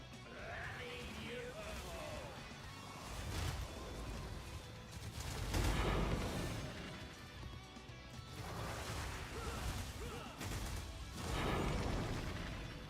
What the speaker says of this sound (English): The explosions are massive sometimes.